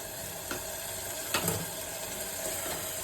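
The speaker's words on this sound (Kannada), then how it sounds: "ಅದರಲ್ಲಿ ಇವಾಗ ಒಂದು ಪಲಾವ್ ಎಲೆ, ಏಲಕ್ಕಿ, ಜೀರಿಗೆ, ಸ್ವಲ್ಪ ಮೆಣಸು ಹಾಕ್ತಾ ಇದ್ದೀನಿ." Bay leaf, cardamom, cumin and pepper fry in oil for restaurant-style egg donne biryani, making a faint, steady sizzle with a few soft clicks of stirring.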